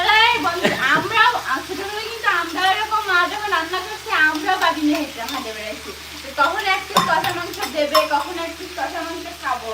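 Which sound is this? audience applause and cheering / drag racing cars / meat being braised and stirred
meat being braised and stirred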